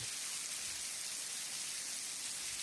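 Steady, dense monsoon rain pours down on the villages of Dhari, Gir, in Gujarat, India, in a continuous hiss with no breaks, heavy and even throughout.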